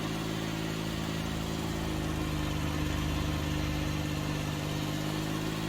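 In Farming Simulator 19, a Case IH 235 lawn tractor with front weights pulls a trailer, its engine giving a quiet, steady low drone that holds evenly throughout.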